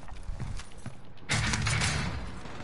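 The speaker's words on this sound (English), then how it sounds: "They're shooting at me!" Video game gunfire erupts as a dense, loud burst of rapid shots after about a second of quieter rumble, then keeps going steadily to the end.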